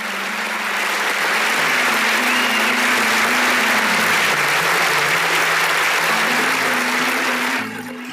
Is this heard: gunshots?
no